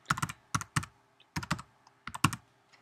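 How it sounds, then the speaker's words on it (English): Computer keyboard typed on up close: short clusters of crisp keystroke clicks in quick bursts with brief pauses between them. "So I'm going to type headline."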